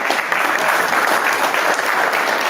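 An audience at a Civil War naval history talk claps together in a steady, dense round of applause that stays even from start to finish.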